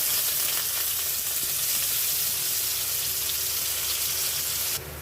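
Chopped onion with ginger and garlic paste hisses and crackles in hot oil, a steady, close sizzle that continues evenly until it drops away at the very end.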